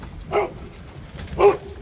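Two short, excited dog barks or yips from dogs in a rescue pack stirred up at their owner's arrival, spaced about a second apart against quiet background.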